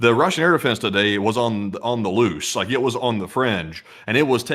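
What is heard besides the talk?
None of the usual background noises is heard.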